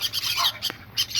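A peacock at a farmhouse gives short, bright squawking calls, with one sharp burst partway through and further calls after a brief quiet gap, fairly close and moderately loud, without talk.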